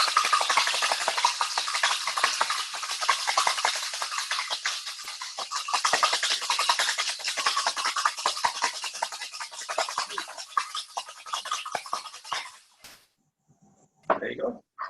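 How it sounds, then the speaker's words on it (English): A cocktail shaker is shaken hard up and down in a fast, steady rattling churn of ice that runs loud and continuous for about twelve seconds, then stops abruptly, followed by a brief clink. "All you do is pick it up, and you have to shake it hard, up and down,"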